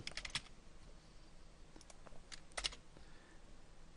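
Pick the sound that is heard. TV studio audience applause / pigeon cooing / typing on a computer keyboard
typing on a computer keyboard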